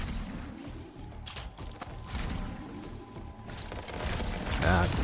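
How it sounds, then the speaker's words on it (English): Gunfire in the game Anthem, a continuous muffled barrage of shots and impacts beneath a steady wash of combat noise at moderate volume. "Getting shot at"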